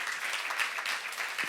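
Brief applause from a church youth congregation during a sermon, a soft, continuous patter of many hands clapping at moderate distance.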